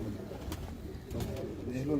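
A large pigeon gives a few low coos close by, mixed with people talking.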